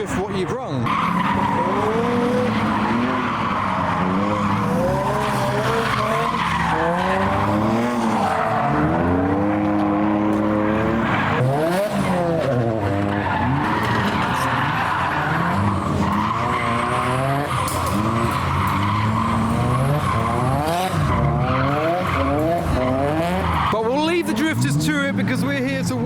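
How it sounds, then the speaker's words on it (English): Cars drifting at a car show: continuous, loud tire squeal and revving engines throughout, with voices talking over the noise. "The drifting area is actually a lot faster than it has been before."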